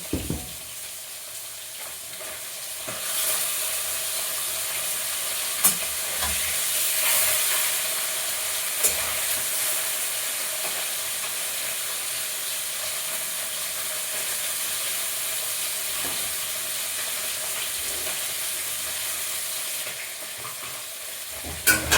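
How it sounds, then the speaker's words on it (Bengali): Potato, cauliflower and other vegetables frying in a pan: a continuous sizzle with occasional clinks and stirring scrapes, steady and close, no one speaking. "সবজিগুলো একটু ভেজে নেব"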